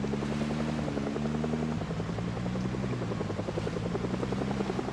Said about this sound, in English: And we seem to be getting a helicopter.